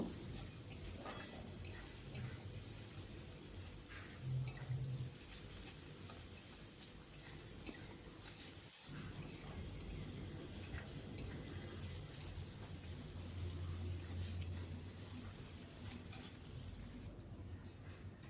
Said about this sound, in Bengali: পেঁয়াজগুলো আগে খুব ভালোভাবে ভেজে নেব।